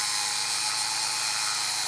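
A steady, high-pitched grinding whine runs continuously, an angle grinder spinning at speed with a faint rapid rattle underneath, cutting a tractor track.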